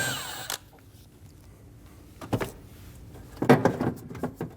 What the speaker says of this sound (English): Using a 10mm socket, remove the nut.